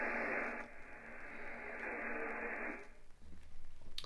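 Shortwave receiver hiss on top band from a loop-on-the-ground antenna, a broad static wash with a barely audible weak signal, fading to quieter noise near the end.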